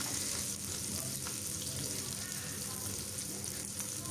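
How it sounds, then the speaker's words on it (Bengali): Chopped onion and garlic fry in a pan with a continuous, even hiss of sizzling oil that stays fairly soft throughout. "দিয়ে এখন আমি গোল্ডেন ব্রাউন কালার করে ভেজে নেব"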